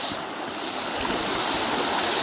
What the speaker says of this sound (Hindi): बहुत सारा पानी यहाँ से जा रहा है फिलहाल।